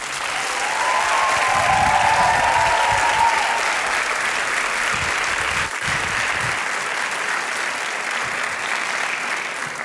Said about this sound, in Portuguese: Tantas palmas e ninguém me conhece.